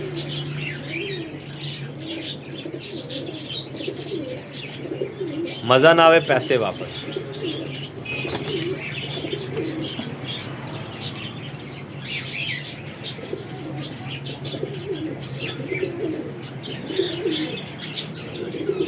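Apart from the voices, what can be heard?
pigeons cooing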